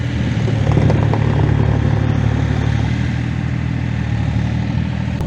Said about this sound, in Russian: Пашет на мини-тракторе.